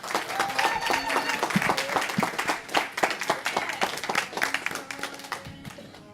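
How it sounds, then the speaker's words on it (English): An audience at a panel discussion gives a warm, sustained round of applause, dense overlapping hand claps filling the room steadily for several seconds before tapering slightly at the end. "won't you please give a warm round of applause to the AAAC's liaison,"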